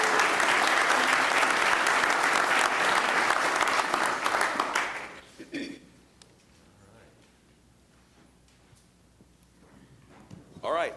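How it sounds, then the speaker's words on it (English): An audience at a city council meeting gives a loud round of applause for about five seconds, then it cuts off abruptly into quiet room sound with faint voices and shuffling. "let's have a round of applause for OKC Beautiful"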